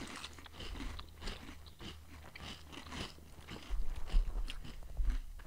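Close-up crunchy chewing of a big bite containing hot jalapeno, with repeated crisp crunches and mouth sounds that grow louder toward the end, with no talking.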